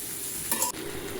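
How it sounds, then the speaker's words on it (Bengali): Bean and potato bhaji frying in a home kitchen pan gives a steady, soft sizzle, with a brief louder stir or scrape in the middle. "এখন আমার ভাজিটা হচ্ছে,"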